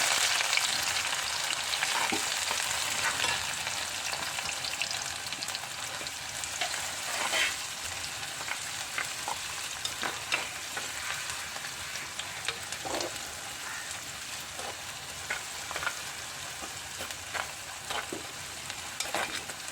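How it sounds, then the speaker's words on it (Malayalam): Chopped small shallots fry in oil as a tempering for a green anchovy chilli curry, giving a continuous close sizzle dotted with small crackles and occasional stirring scrapes, with no voices. "നമുക്ക് ചെറിയ ഉള്ളി അരിഞ്ഞത് ഇട്ട് കൊടുക്കാം താളിക്കാം"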